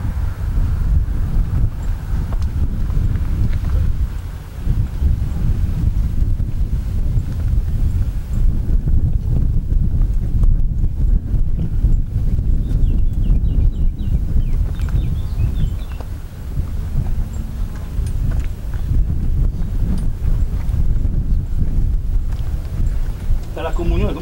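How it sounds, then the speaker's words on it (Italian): Wind buffets the microphone in strong, rumbling gusts throughout, with a person speaking Italian over it at an outdoor Mass. "C'è un po' di vento"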